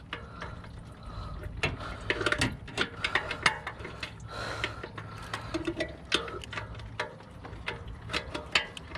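A wrench turning a bolt low in the engine bay of a Chrysler 300 3.5L Limited during an alternator replacement, making a quiet, irregular run of ratcheting clicks and metallic taps close by.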